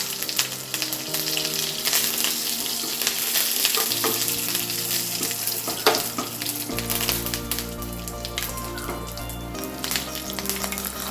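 Hot oil sizzles steadily with scattered sharp pops and crackles as mustard seeds burst in a pan for tempering with dried red chillies and curry leaves, with some music playing faintly underneath.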